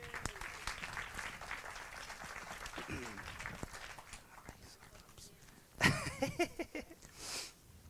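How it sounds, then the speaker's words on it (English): Stand-up comedy audience applauding, a moderate, fairly distant patter of clapping under murmuring and talk, followed by a sharper burst of sound near the end. "Give a round of applause, everyone."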